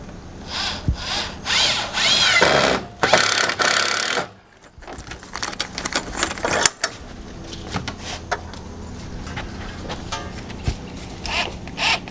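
Power drill driving screws into hinges and brackets on a driveway or fence gate, several loud whirring bursts in the first few seconds, then quieter handling clatter and small knocks.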